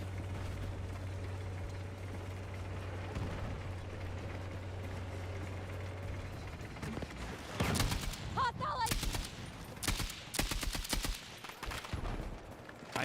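Gunfire in a Battlefield match, with a low steady hum giving way to bursts of rapid automatic shots and sharp single cracks, loud and close, with faint speech underneath.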